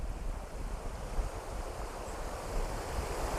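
Wind rushes steadily across a forest campsite beside a river, a constant low roar with slight gusts and no voices.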